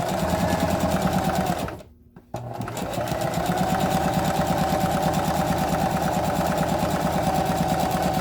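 A sewing machine hums continuously and close up as it stitches through a handbag, with a short pause near the start before the steady run resumes.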